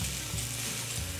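Sizzling of a thick slab of cauliflower cut as a steak, frying in oil in a hot pan, a steady close hiss with faint crackle throughout and no talking.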